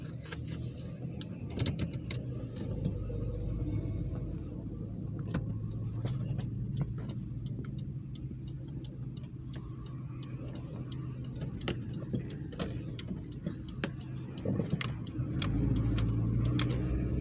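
A car drives along a bypass road in Yakutsk, with a steady low interior road rumble and engine hum throughout, some light rattling or ticking inside the cabin, and no talking.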